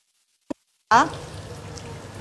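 Food frying in a hot pan while a postpartum confinement meal is cooked: a short sharp tap, then a sudden loud sizzle that settles into a steady crackling hiss, with a brief voice near its start.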